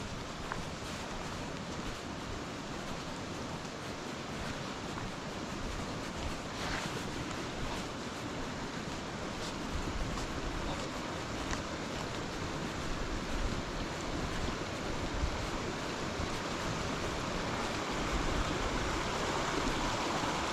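Stream water flows beneath a wooden bridge, a steady broadband rush, close and continuous, with no voices.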